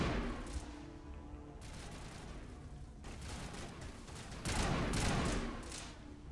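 Sustained gunfire in Mass Effect on Eden Prime, a dense, rattling stream of shots with a few louder bursts toward the end, steady and fairly close throughout with no voices.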